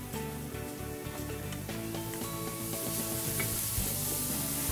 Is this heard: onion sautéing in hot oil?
yes